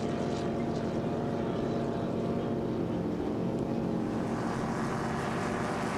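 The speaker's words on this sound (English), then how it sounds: "Lovely shot to see these boats in action here" A racing powerboat with a 1250 horsepower engine roars past in a dense, loud, continuous engine drone with rushing water and wind noise and no voices.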